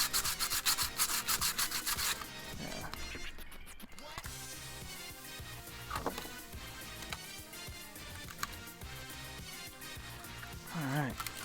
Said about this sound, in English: Get some of this lower grit sandpaper.